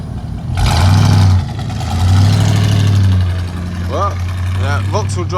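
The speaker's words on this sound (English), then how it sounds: "As that V8 roars away." A V8 car engine roars away at a classic car breakfast meet, a loud, deep rumble that swells, dips and swells again before settling into a steady drone, with faint voices or chirps toward the end.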